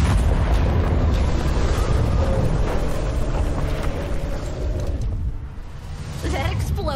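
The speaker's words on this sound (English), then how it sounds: "That explosion was wild!" A big explosion in the video game Hard West 2 roars as a dense, sustained rumbling blast with debris noise, loud and continuous before tapering slightly, while game voices are mixed in.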